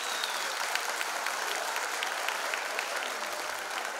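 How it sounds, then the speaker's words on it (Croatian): Audience applause for students at a school ceremony in Pljevlja, a steady, dense wash of many hands clapping at full strength throughout, with no voices standing out. "Veliki pozdrav i veliki aplauz za sve naše učenike."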